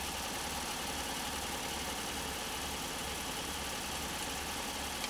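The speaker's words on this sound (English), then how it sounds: "it's not sewing under a load right now, it's just sewing" A sewing machine runs freely at full speed with no fabric under load, giving a steady, even motor hum and whir that holds unchanged for the whole stretch without any talking.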